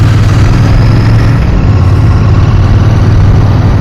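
Royal Enfield Bear motorcycle engine while riding on new tyres, a steady low rumble and throb held close and loud throughout.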